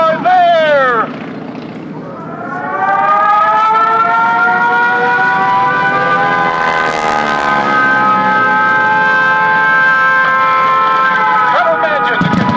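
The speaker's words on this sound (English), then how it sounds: "Hear the sirens, just as they did." A loud, wailing air-raid siren rises and holds a steady tone for several seconds, with overlapping harmonic layers, in a Pearl Harbor attack reenactment at an airshow.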